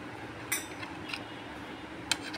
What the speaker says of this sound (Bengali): এবার এই শুকনা মশলাগুলো আমি জল দিয়ে গুলে রেখে দিচ্ছি।